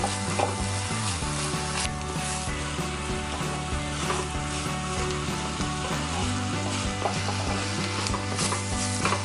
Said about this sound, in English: It's starting to sizzle, it's getting all the nice noises going on.